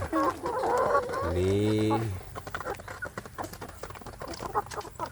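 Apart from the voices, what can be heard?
kampung chicken chicks clucking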